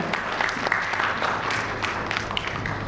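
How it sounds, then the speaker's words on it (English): Audience applause after a corporate risk management presentation, a roomful of hands clapping steadily and fairly loudly for about three seconds, with no speech over it. "Can we have a huge round of applause for everyone?"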